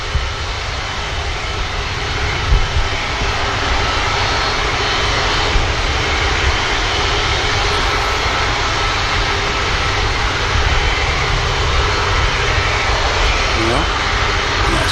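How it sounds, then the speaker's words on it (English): An emergency helicopter from Barton passes the Manchester Airport tower, its engine making a loud, continuous roar with small bumps in level, under a faint murmur of talk. "One of the emergency helis from Barton there. Heading back to Barton by looks."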